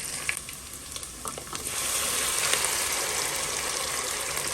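Onions and pepper frying in oil in a pan, a dense, loud hiss of sizzling close by that swells and holds steady after the pepper goes in, with a few light stirring clicks early on.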